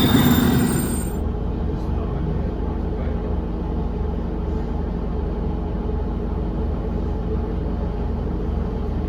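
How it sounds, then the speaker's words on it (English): A London Northwestern Railway train at Kempston Hardwick station, heard as a loud opening burst and then a steady low rumble of the train running close by for about eight seconds. "Train is here"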